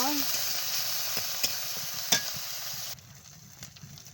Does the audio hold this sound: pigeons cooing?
no